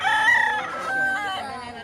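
A stag rooster crows once at a Lipa, Batangas poultry market, loud and near, its call rising and then trailing off into a drawn-out fading note.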